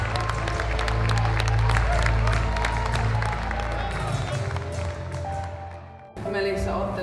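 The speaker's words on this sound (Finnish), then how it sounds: "Annetaan raikuvat aplodit myös hänen haastajalle" At a boxing event, an audience applauds a fighter, with broad crowd clapping and cheering under loud music and an announcer's voice, fading before a brief cut near the end.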